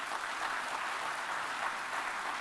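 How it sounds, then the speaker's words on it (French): Audience at the Dakar 2 Summit opening ceremony applauding Irish President Michael Higgins, a steady, even wash of clapping from a large hall, fairly distant and unbroken. "que je vous demande d'applaudir"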